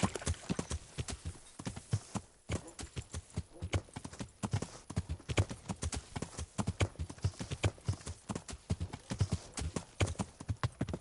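Horse hooves clip-clopping in the medieval game Kingdom Come: Deliverance, a brisk continuous rhythm of sharp close hoof strikes with a faint whinny.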